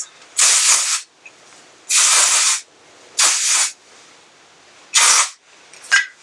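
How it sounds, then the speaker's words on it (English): Four long bursts of Living Proof dry shampoo sprayed onto hair, close and loud aerosol hisses about a second each with short gaps, followed by a quick final puff. "so I'm gonna spray some dry shampoo"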